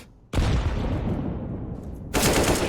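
Gunfire in a Counter-Strike match on the Mirage map: two loud, close, broadband bursts of shots, the first sustained and decaying, the second sharp near the end, with no talk over them.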